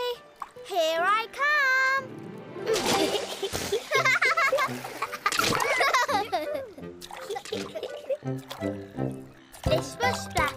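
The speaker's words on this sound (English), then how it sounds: "A brand new pool. Jump in, jump in." Cartoon splashing of water as characters jump into a brand new swimming pool on a summer day, bursts of splatter running on and off across the clip, mixed with a voice and singing.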